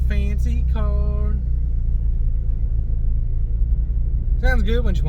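A car engine idles with a low, steady rumble throughout, while voices speak briefly at the start and end.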